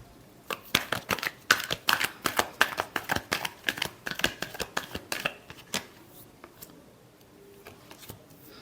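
A deck of tarot cards is shuffled in quick riffling bursts of sharp flicks and snaps, loud and close, before trailing off into a few scattered taps near the end.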